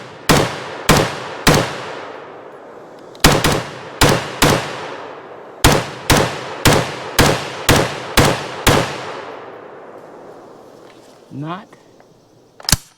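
A Heckler & Koch MR556A4 piston AR-15 rifle fires at an outdoor range, loaded from a green magazine and resting on a grip pod: about fifteen sharp, loud reports in quick bursts and spaced shots, with a brief voice near the end.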